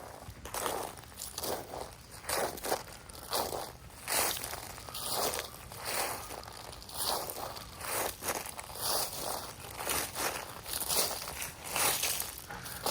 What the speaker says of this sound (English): when you walk through it, you can actually hear it crunching